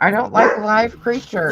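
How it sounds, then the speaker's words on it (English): A dog barks in short, yappy bursts close by, mixed with and partly under a person talking. "Sorry for the barking, guy."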